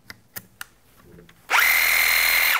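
A DeWALT XR compact reciprocating saw follows a few light clicks and handling taps, then starts abruptly and runs loud and close with a steady high-pitched motor whine and buzzing blade.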